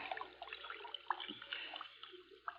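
A body is pulled into a stream in a radio drama, bringing brief faint water splashing and trickling that stays quiet and low throughout.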